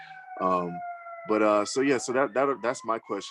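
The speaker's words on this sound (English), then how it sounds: "Sorry about the siren" An emergency vehicle siren passing outside holds a faint, steady high tone in the background, sitting beneath a person talking close by.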